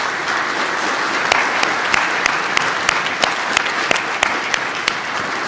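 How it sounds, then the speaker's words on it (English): An audience claps steadily for highway patrol training, recruiting and employment staff at a graduation ceremony, a dense, even wash of applause with sharper individual claps standing out, sustained for several seconds without talk. "Let's applaud them as they stand to be recognized."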